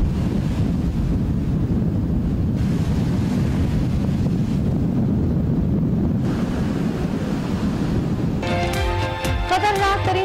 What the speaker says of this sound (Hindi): समंदरी तूफान अरमा ने फ्लोरिडा में खतरे की घंटी बजा दी, साहिली इलाकों में तेज हवाओं के साथ बारिश।